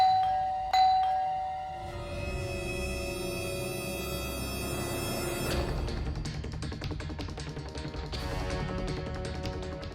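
A doorbell chimes with a bright ringing tone over a low background hum, followed by a rapid string of clattering taps.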